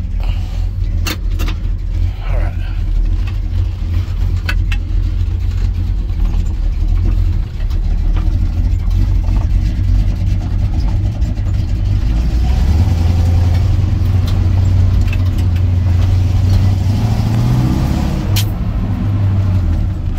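A 1956 Chevrolet 3100 pickup truck engine rumbles steadily as it drives, its low drone rising and falling with acceleration, plus occasional rattles and clicks.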